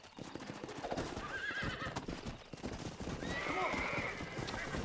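Horse hooves clip-clop rapidly in a gallop in the video game Red Dead Redemption while a horse whinnies twice, loud and close, over a busy background.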